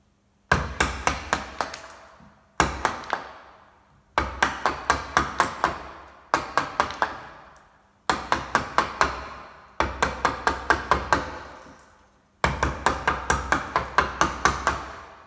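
A mallet drives a chisel to chop out timber between closely spaced saw cuts, making loud, sharp woody knocks in quick bursts of several blows each, with short pauses between bursts and no talking.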